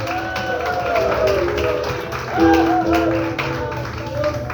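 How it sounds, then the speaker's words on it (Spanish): Worshippers in a church service clap and cheer, a crowded, close burst of hand claps mixed with shouting and praising voices. "Dale un aplauso al Rey, pues dale."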